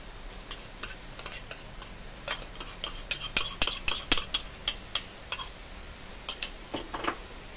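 Papaya and canned fish being stir-fried in a pan, a spatula tapping and scraping the metal in a quick, steady run of sharp, close strikes over a soft sizzle, with no voices.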